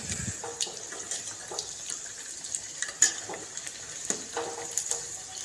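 Batter-dipped banana fritters bubble in hot oil in a pan, a soft steady hiss with scattered small pops and crackles at close range, no voices.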